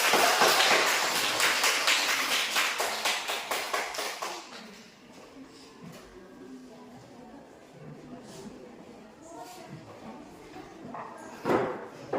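A classroom audience claps for a class presentation, a burst of brisk, fairly loud applause that fades out after a few seconds, with people talking afterward.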